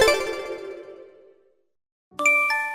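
A phone chime rings out twice: a bright tone fades away over about a second and a half, then after a short silence a second sharper ring starts, with no voices around it.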